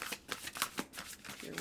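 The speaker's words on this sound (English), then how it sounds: "We're just going to pull one. Guardian Angel cards." A deck of Guardian Angel oracle cards being shuffled by hand, with quick papery riffles and soft taps repeating in a light, steady rhythm up close, and no voice over it.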